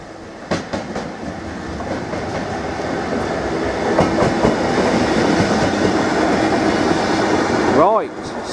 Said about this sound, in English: 66738 has passed through again, performing its shunt move from Felixstowe South Terminal to Felixstowe North Terminal